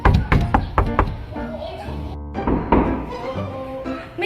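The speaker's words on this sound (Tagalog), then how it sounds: "May kumakatok na naman." Someone knocks on the door of a house, a series of close, hollow thunks in quick bursts, mixed with voices and other household sound.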